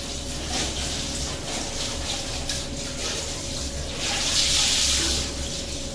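Clothes washed by hand under a running tap, with a steady close rush of water that swells louder near the end.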